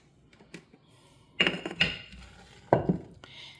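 A spoon stirs a yeast and white sugar mixture in a container, giving a few separate clinks and scrapes against the sides, with quiet pauses between them and no voice.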